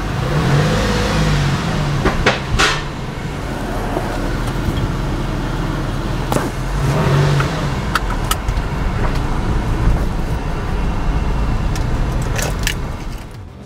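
A Porsche 996 on a test drive after an IMS bearing replacement, a steady engine and road roar heard from inside the car with occasional clicks and rattles, continuous and moderately loud.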